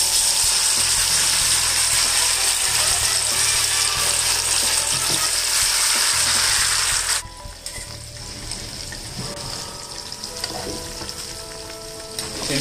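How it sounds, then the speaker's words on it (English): Chicken kebabs fry in a pan over a low flame, giving a steady dense sizzle that drops suddenly to a quieter crackle with occasional stirring clinks. "we're going to start frying the chicken kebabs now"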